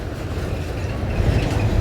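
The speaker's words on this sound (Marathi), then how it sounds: "ट्रेन बघा तिकडनं दिसते" A train rolls past on the tracks below the Mumbra hillside near the station, a steady, fairly distant rumble with faint wheel clatter that holds evenly throughout without any talk.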